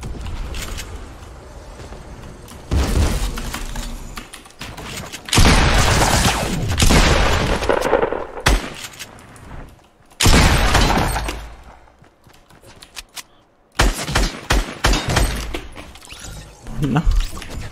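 Gunfire in a Fortnite match, bursts of loud rapid shots and impacts in several clusters separated by short quiet gaps, with a voice talking in between.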